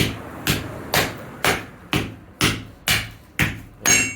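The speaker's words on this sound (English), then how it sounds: "So I'm just going to hit along the long seam." A hammer strikes a dried Royal Poinciana (Delonix regia) seed pod along its long seam, resting on a log stump. Nine sharp, evenly spaced knocks land about every half second, close and loud, with no talking.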